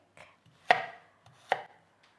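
A knife cuts onion and a piece of fresh turmeric root on a board for crab curry, with two sharp, close chops and a few lighter taps in a quiet room.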